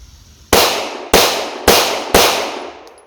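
Four handgun shots fired at a range, each a sharp, loud, close crack with a decaying tail, spaced roughly half a second apart in a quick, even rhythm.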